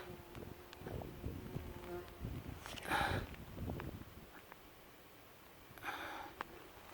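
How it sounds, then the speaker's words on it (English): Bumblebees buzzing around coastal rocks at Logan Rock in Cornwall, faint intermittent buzzes swelling and fading as they fly close, over quiet outdoor background. "Little bumblebees."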